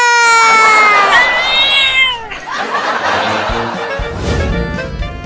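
A cat yowls loudly and close, a long drawn-out caterwaul that trails off into scuffling and faint voices.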